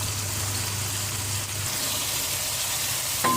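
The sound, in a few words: chicken frying in a pan for achari chicken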